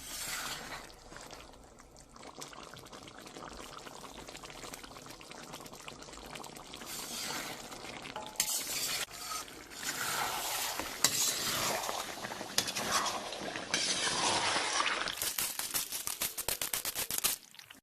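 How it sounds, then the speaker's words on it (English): Spices such as dry coriander, cumin, chili flakes and black pepper sizzle in hot oil in a pan for mutton karahi, a soft continuous frying hiss with occasional scraping and stirring, growing louder and busier toward the end. "Spices can now be added while frying."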